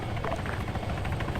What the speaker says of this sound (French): Confirmé audio hélico ouest.